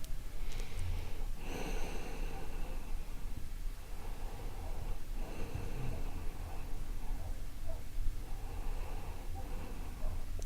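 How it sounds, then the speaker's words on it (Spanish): Slow, meditative breathing, close and quiet: long airy inhales and exhales through the nose with soft snort-like sniffs, spaced a few seconds apart against a faint hiss. "volver a concentrarnos en la respiración solamente."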